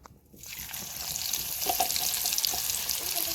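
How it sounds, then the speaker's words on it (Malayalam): Jackfruit pieces drop into hot coconut oil and start frying, a close, dense sizzling hiss that rises quickly after a brief quiet start and holds steady, with a few small pops and no talking. "എണ്ണ ചൂടായിട്ടുണ്ട് അതിലേക്ക് ഇതൊന്ന് ഇട്ട് കൊടുക്കാം"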